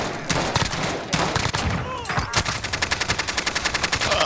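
Rapid automatic gunfire in a video game shooter set in a quarry, with a loud rhythmic burst of evenly spaced shots in the second half after scattered earlier shots and clatter.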